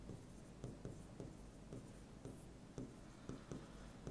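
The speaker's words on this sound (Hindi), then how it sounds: "मैं डायरेक्ट लिखूंगा विटामिन B1" Chalk tapping and scraping as a teacher writes on a board during a horticulture class, a series of short, quiet, irregular strokes at moderate distance with no talk.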